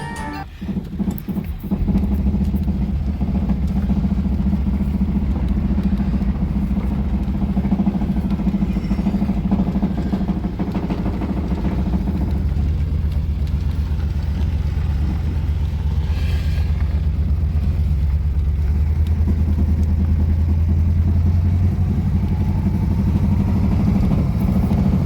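1967 Ford Thunderbird V8 on its first drive after restoration, a steady low engine rumble underway, close and continuous, with a deeper, heavier drone building in the second half.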